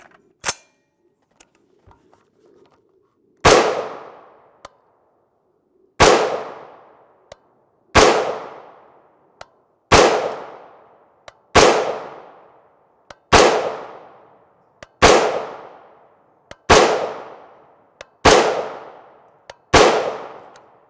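Rapid series of about ten loud 5.56x45mm rifle shots firing 55gr FMJ Stac-Tactical ammunition, each sharp crack trailing into a short decaying ring, spaced roughly every one to one and a half seconds with faint clicks between.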